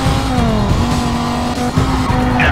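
A blue Viper races in a police pursuit in the Need for Speed Carbon video game, its engine droning loud and steady with tire squeal and skidding, heard close without pause and with no talking.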